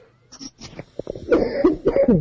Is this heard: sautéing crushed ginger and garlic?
no